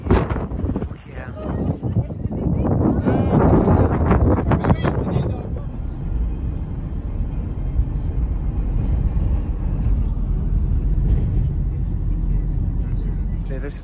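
Strong wind whips over the ocean cliffs by a lighthouse at Europe's westernmost point near Lisbon, Portugal. Loud, continuous buffeting roars against the microphone throughout, heaviest in the first few seconds, with a voice partly buried beneath it.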